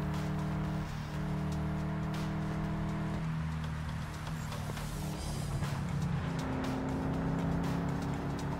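Oncoming cars in the driving game Heading Out sweep past in a steady engine drone under game music, a continuous loud hum with shifting pitch and no talk.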